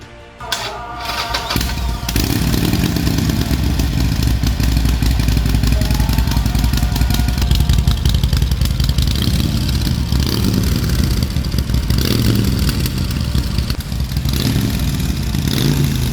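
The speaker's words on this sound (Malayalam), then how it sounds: "ഇനി നമുക്ക് നേരെ ഈ ഒരു ബൈക്കിൻ്റെ എക്സോസ്റ്റ് നോട്ടും കൂടി ഒന്ന് കേട്ട് നോക്കാം." A custom Harley-Davidson 48 motorcycle rumbles close by after a brief quieter start, its exhaust note a loud, steady, throbbing idle with slight swells of throttle.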